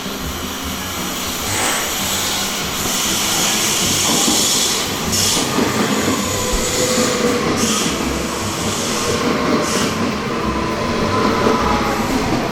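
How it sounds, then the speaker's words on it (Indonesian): Steady loud rumble and hiss of a train running in Italy, heard from inside a carriage, continuous clatter and rushing air throughout with no talk. "Panjang amat ya kereta."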